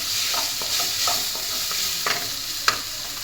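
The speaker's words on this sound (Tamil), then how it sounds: "ஸ்லோ ஃப்ளேமில் வச்சு நல்லா வதக்கி விடுங்க." Onion masala for egg salna sautéing in a pan over a low flame, a steady soft sizzle broken by repeated scrapes and taps of the spoon, with one sharper knock near the end.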